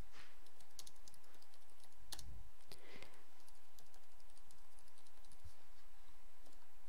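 Computer keyboard being typed on in an irregular run of soft, close keystrokes with a few sharper clicks and short pauses.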